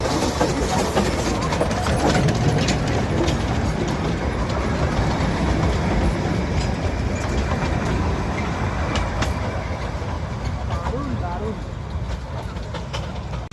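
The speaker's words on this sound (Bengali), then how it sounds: "ভেতর দিয়ে টয় ট্রেন যায়, এইমাত্র আমাদের সামনে দিয়ে চলে গেল।" Darjeeling toy train rumbling past at Batasia Loop, a steady loud wheel-and-carriage roar with rhythmic clatter that fades slightly toward the end, with voices mixed in.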